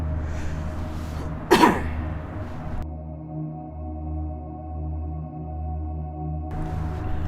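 A single sharp cough rings out near the start against a low background hum, followed by quiet.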